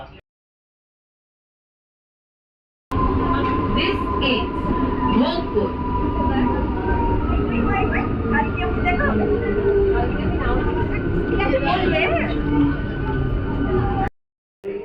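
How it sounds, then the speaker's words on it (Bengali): A train pulls out of Panskura station, with a steady rumble of rolling wheels and carriage noise close by. Faint squeals rise over it, and it cuts off abruptly after a silent start. "ট্রেন ছেড়ে দিয়েছে, এবার আমরা বাড়ি যাচ্ছি।"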